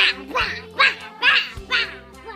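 A person's voice mimics a duck, giving five loud, evenly spaced nasal quacks in a steady rhythm, close to the microphone.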